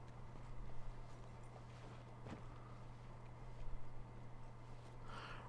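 Horse hooves clip-clop steadily in Red Dead Redemption II, a faint, even walking rhythm under soft ambient wind and a low steady hum.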